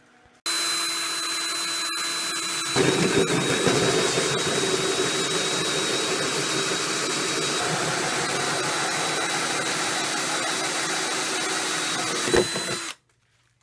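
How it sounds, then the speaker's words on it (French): A power drill bores holes during a restoration on a panel being smoothed like a car body, whining steadily and loudly for about ten seconds after a brief start, then stopping. "Alors maintenant, on perce les trous."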